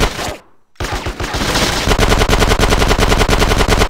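Rapid automatic gunfire from the video game Grand Theft Auto San Andreas, loud and continuous bursts with a brief silent gap near the start, then a steady dense rattle of shots.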